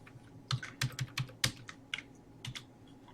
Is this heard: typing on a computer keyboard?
yes